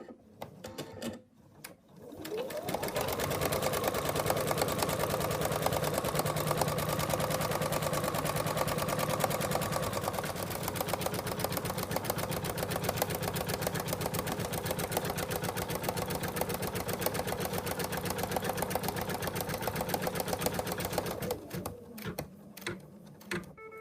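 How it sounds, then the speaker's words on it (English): An embroidery machine stitches around an in-the-hoop wallet in one long, steady buzzing run of rapid needle strokes, close and even in loudness. It spins up after a couple of seconds and winds down near the end. "now I'm going to take it back to the machine and it's going to stitch around there"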